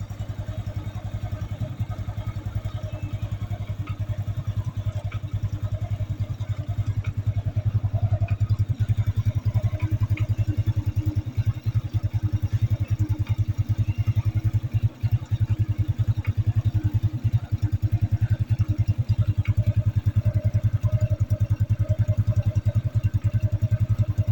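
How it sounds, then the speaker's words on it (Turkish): Brava motorcycle engine idling steadily while warming up before an oil change, a continuous low, even rumble with light mechanical clatter, close and loud throughout with no talking. "Motorumuzu ısıttık, sesini dinlettik."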